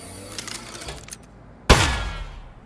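Gunfire from the Aperture Desk Job video game: a single sharp, loud shot bursts out after a quiet stretch with faint game sounds, then decays in a ringing tail.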